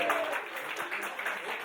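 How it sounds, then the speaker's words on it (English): Steady audience applause fills a bar during a live design game show, a dense continuous patter of many hands, with a voice talking over it part of the time. "Big round of applause for the glamorous assistant, ladies and gentlemen."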